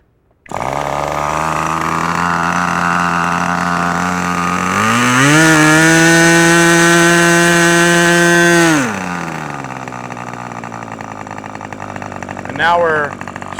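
A radio control model engine starts and idles with a buzzy, harmonic-rich drone, then revs up higher for several seconds before dropping back to idle, loud and close.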